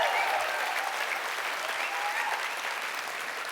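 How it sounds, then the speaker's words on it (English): An audience claps steadily in another round of applause for a featured guest, a full, continuous wash of hand claps that stays loud and even throughout the short stretch. "Maybe another round of applause for her."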